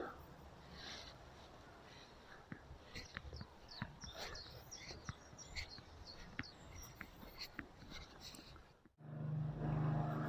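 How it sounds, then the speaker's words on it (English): A steady low lawn mower drone runs beneath outdoor ambience in an old graveyard, with scattered sharp clicks, then the engine grows louder and nearer near the end. "There's a man here maintaining the old graveyard today. He's cutting the grass,"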